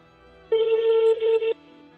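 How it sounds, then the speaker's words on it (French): A telephone keypad tone sounds as numbers are dialed, one steady electronic beep lasting about a second with a brief dip partway through, clear and close with quiet before and after. "Je compose les numéros."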